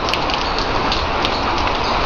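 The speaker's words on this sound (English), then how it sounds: "It's raining, but we're still going to be training." Steady rain pours on a durian farm in Penang, Malaysia, a dense, even hiss of drops close by with no talking, constant in loudness throughout.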